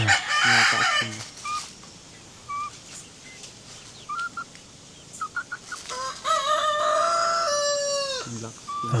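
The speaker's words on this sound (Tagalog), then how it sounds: "Natatakot po yung mga manok." Pet backyard chickens in the Philippines, with a rooster crowing loudly near the start and again in a long crow near the end, separated by scattered short clucks from the hens.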